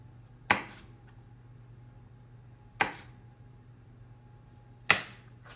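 Three separate, crisp knife strokes through thick celery onto a cutting board, spaced about two seconds apart, each a sharp close crack over a quiet background.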